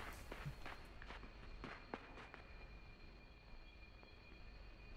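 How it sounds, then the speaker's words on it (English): Light, steady footsteps of the boy walking in the video game Limbo, a quiet series of soft repeated steps over a low ambient hum, no talking. "Thought I heard other footsteps than mine for a second."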